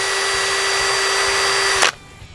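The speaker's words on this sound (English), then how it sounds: "But the rest of them we're just going to wire brush" Power wire brush scrubbing old bolts from a 2004 Ford F250 Super Duty, a steady loud whirring grind with a high tonal whine that cuts off abruptly near the end, leaving quiet room tone.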